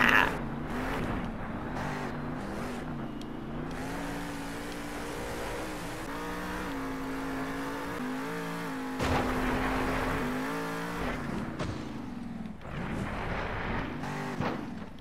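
Monster truck engines at a Monster Jam event roar and rev hard during wheelies, loud sustained engine drone with surging bursts and a sharp jump in volume midway, crowd noise faint underneath.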